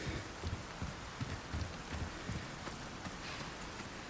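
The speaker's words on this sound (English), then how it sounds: "God, it's raining." Rain pouring in a video game, a continuous dense patter with faint low rumbles beneath, steady and moderately quiet throughout.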